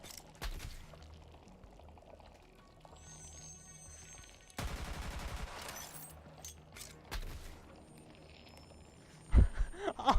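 Gunfire from the video game Borderlands 3 comes in a few sharp shots and a dense, rapid burst of automatic fire, with scattered single reports afterward, heard fairly quietly among other game sounds.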